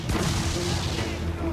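Ship cannons fire in the Assassin's Creed 4: Black Flag video game, an opening boom giving way to rolling, rumbling blasts and crashing debris, loud and dense with background game noise.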